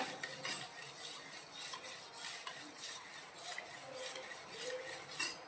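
A kitchen towel swished and stirred around in a bowl of tile cleaning solution, making steady wet scraping and light clinking sounds that repeat in a soft rhythm, close by with no talking.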